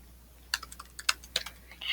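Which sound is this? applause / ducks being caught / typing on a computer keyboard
typing on a computer keyboard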